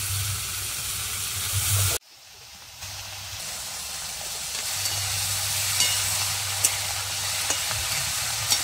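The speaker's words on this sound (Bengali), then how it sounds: "এবার কেটে রাখা লাউগুলি দিয়ে দিচ্ছি।" Cut bottle gourd is dropped into hot oil already holding mustard seeds, dried chillies and bay leaf. A loud, steady sizzle cuts out sharply, then builds back into continuous frying hiss with occasional pops.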